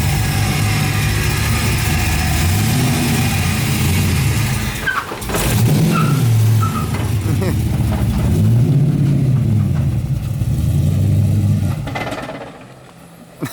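An LS3 V8-swapped Nissan 240SX drives along with a loud, deep engine drone from inside the car, rising and falling as it shifts and revs, before easing off toward the end.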